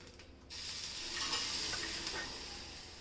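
Black pepper and ajwain (carom seeds) crackling as they fry on low heat for a medicinal rasam, a steady close sizzle with light popping that swells after a brief quiet start, no talking.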